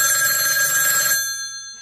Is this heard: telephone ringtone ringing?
yes